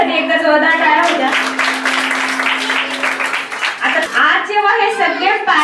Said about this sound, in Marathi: मोरे मॅडमसाठी एकदा जोरदार टाळ्या होत्या